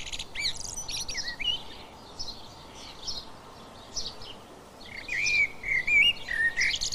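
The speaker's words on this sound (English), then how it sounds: "The blackbird has a beautiful flute-like song." A blackbird sings a flute-like garden song, with soft whistled phrases rising and falling at a moderate distance. It grows a little fuller toward the end over a faint outdoor hiss.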